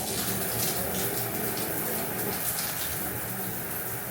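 A hotel shower runs at strong pressure, a steady, dense hiss of spraying water that stays close and unbroken throughout.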